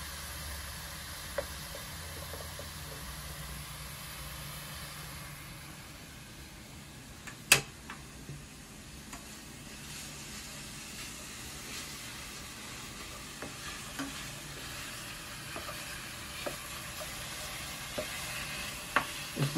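Food sizzling in a pan for huevos ahogados while a utensil stirs it, a steady frying hiss with occasional scrapes and clinks, close and continuous, no talking.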